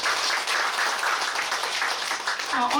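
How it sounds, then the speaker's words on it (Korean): An audience at a gathering of a historical research society's regional committee gives a member a round of applause, brisk and steady, with a voice starting to speak at the very end. "예, 우리 이수진 회원님께 한 번 더 박수 부탁드립니다."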